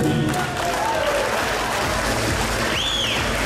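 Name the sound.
applause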